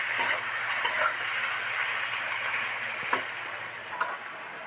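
Tomato, brinjal and potato fry gently in oil for hilsa curry, a steady soft sizzle with occasional small pops and ticks, close and alone without voices.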